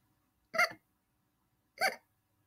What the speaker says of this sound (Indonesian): Makin dia takut, makin sering dia cegukan.